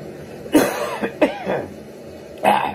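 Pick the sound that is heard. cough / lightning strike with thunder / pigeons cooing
cough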